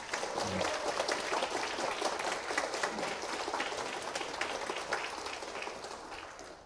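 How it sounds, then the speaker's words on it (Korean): A church congregation applauds the accompanists after a worship service performance, steady broadband clapping filling the room and slowly tapering off toward the end. "우리 특별히 오늘 연주해 준 우리 반주자 또 우리 찬양대회에서 박수 한번 해주세요."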